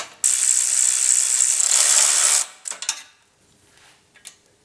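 A ratchet works a stripped bolt loose on a modified car, one long fast clicking run followed by a few short clicks and rattles of metal, close and fairly loud.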